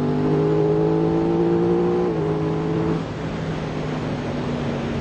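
Aprilia RS660 sport motorcycle engine pulls steadily under acceleration, a loud continuous drone with rising harmonic tones that shift at about two and three seconds, as if through gear changes, with no talk over it.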